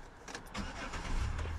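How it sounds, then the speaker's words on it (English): A 2011 Chevy Impala engine cranks and catches, a brief starter whir rising into a low engine rumble at close range, with no talk. "now just see if the engine starts"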